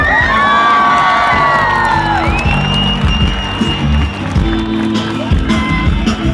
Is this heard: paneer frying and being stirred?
no